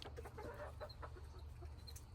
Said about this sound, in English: That's my flock of birds.